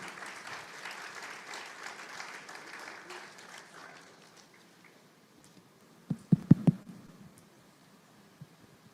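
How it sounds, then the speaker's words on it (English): An audience at an SME business conference gives moderate applause to welcome a speaker. The clapping fades out over the first few seconds, leaving near-silence with a few sharp taps or thumps close by. "Can we please give a round of applause as we welcome him?"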